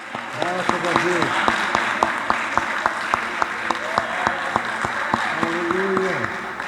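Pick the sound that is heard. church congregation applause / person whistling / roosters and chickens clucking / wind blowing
church congregation applause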